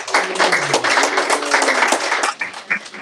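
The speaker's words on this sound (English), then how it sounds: "Another round of applause, please, for both of those speakers." An audience at a devotional Prabhupada meditation gathering bursts into dense, sustained applause, many hands clapping close together with a few sharper claps standing out as it begins to taper near the end.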